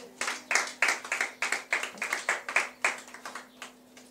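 A church congregation claps together in a steady, fairly fast rhythm, a dense run of hand claps heard at moderate distance with a sustained low hum beneath.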